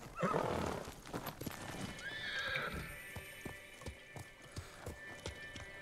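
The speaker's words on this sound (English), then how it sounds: "I want to keep the horse." A horse whinnies loudly in a video game, then hooves clip-clop in a quick steady galloping rhythm, close by.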